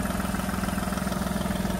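A diesel Volkswagen Polo idles with the engine compartment open, making a steady, even low hum with a faint regular pulse and no voices.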